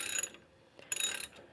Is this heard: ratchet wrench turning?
yes